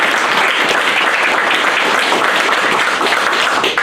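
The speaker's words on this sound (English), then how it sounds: "And so please give them a round of applause." Dense, loud applause from a luncheon audience, a steady wash of many hands clapping together throughout, with no talk over it.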